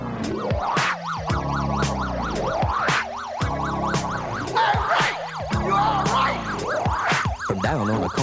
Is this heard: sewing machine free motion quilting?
no